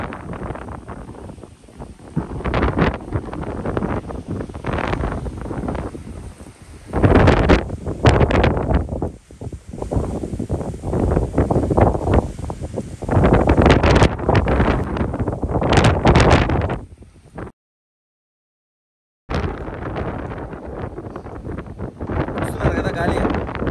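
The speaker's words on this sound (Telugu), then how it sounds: "గాలి" Wind gusts buffet the microphone at a hilltop viewpoint on Horsley Hills, a loud rumbling roar that rises and falls for most of the clip, with a brief dropout near the end.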